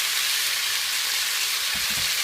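Marinated pork and cabbage fry in a pan with a steady, bright hiss of sizzling fat, close and constant, with a few soft low bumps of stirring near the end.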